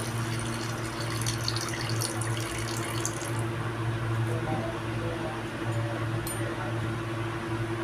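Water poured from a container into a pan of Bengali-style mutton kosha curry mixed with yogurt, a quiet steady splashing over a low kitchen hum.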